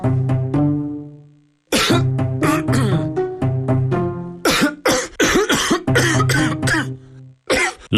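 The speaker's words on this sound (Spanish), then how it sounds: "¿La tos no te deja trabajar?" A person coughs repeatedly in harsh, chesty fits with brief throat-clearing between them, loud and close, alone without talk, in a cough syrup advertisement about a phlegmy cough.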